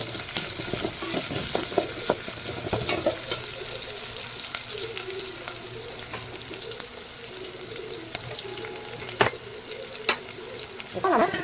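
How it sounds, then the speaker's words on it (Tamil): Onions sautéing in a pan for a meal maker and potato kurma, a steady close sizzle of frying with repeated scraping stir strokes and light clinks throughout, no talking. "நல்லா ஒன்றா மிக்ஸ் பண்ணி விட்டுக்கோங்க. நம்ம நல்லா ஒன்றா மிக்ஸ் பண்ணி விட்டுக்கலாம். வெங்காயம் கொஞ்சம் வதங்கட்டும்."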